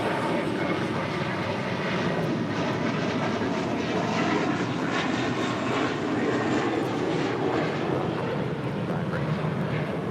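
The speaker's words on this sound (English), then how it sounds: "This is American Airlines 32, taking off to JFK on the A321." An American Airlines A321 jet roars through its takeoff run at LAX, a steady, loud broadband engine rumble that holds throughout with no voices.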